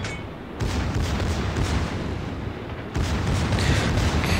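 Naval artillery salvos in World of Warships during close-range brawling: a dense, continuous roar of heavy gunfire and blasts, loud and sustained, with a sharp surge partway through.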